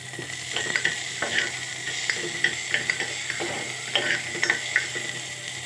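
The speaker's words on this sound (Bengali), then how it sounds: "পেঁয়াজটা একটু ভেজে নেব।" Onions frying in a pan, a steady sizzle running throughout with a string of sharp scraping and clinking stirs of the spatula against the metal, close up and alone.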